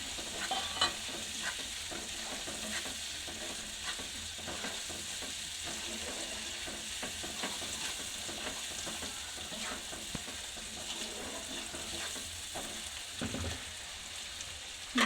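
Peanuts go into a pan of sizzling masala for a mini Mughlai snack, with a steady loud fry hiss throughout and repeated scraping strokes of a spatula stirring the mixture.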